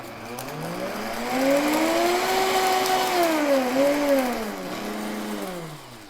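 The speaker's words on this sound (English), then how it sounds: "I'm going to throw that in and blend it for about 10 seconds." A blender runs continuously for about six seconds, grinding green cardamom pods into gin, its motor whine rising and falling in pitch as the load shifts, loud and close with no voices.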